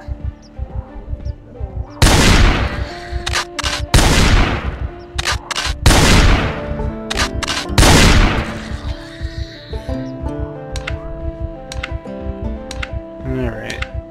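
Video-game gunfire: four loud, heavy blasts spaced about two seconds apart, each with a long ringing tail, over steady background game sound and a talking voice.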